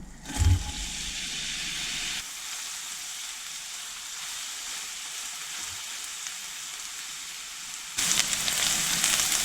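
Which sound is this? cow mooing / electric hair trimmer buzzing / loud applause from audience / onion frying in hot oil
onion frying in hot oil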